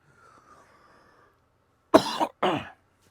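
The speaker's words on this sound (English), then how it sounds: "Still have a little bit of a cough going on." Two short, close coughs in quick succession from a person with a chesty cold, following a faint murmur in an otherwise quiet room.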